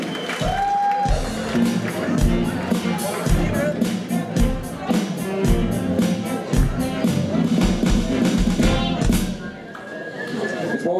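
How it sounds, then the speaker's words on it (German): An audience at a live stage show cheers and whoops while sharp, regular claps ring out, with a voice talking over the crowd throughout. "Ein großer Applaus mal für meine reizende Assistentin"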